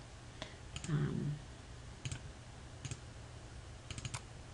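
A computer mouse clicking in a quiet room: scattered sharp, faint clicks, some in quick pairs or triplets, with no speech.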